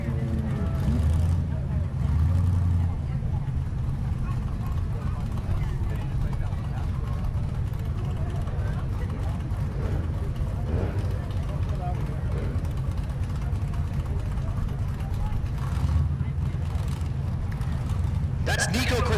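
A stick-shift Malibu and a BMW idle and rumble at a drag strip, a low engine drone heard under a public-address announcer's voice, with brief revving bursts near the start and end.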